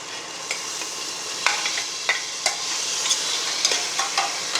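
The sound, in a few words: frying salted dried meat (uppu kandam) with tomato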